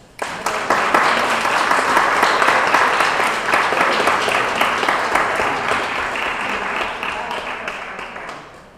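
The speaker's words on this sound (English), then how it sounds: "Please put your hands together" Sustained applause from an audience at a mobile estate show, dense clapping starting abruptly and holding steady before tapering slightly toward the end.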